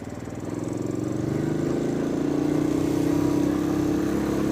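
Royal Enfield Bullet single-cylinder motorcycle riding along a green lane, a steady thumping engine drone close by that builds slightly as the throttle opens, with a worn tyre.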